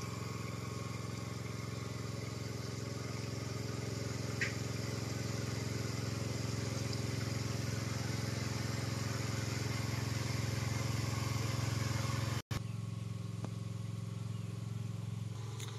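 A farm resort's motor pump for the water supply drones steadily at a moderate distance, a constant engine hum with a brief dropout near the end.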